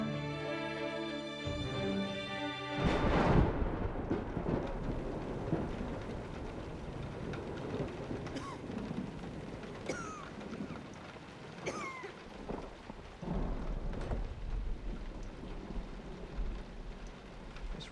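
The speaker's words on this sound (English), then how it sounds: "This rain never stops." Steady rain falls with a low rumble of thunder, heard after a brief musical passage, while faint bird-like calls and thin squeaks drift in the distance over the hiss of the downpour.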